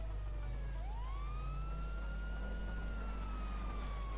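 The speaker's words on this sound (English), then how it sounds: "Everyone, turn them sirens on so we can hear each other." Police car sirens in the GTA video game wail and sweep in a rising, falling tone, faint and distant over a low steady hum.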